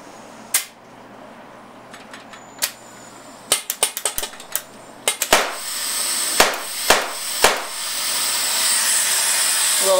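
Air hissing steadily from a leaking CO2 setup on a Tippmann TCR paintball marker, broken by a string of sharp pops and cracks, some in quick clusters, with the hiss swelling louder toward the end.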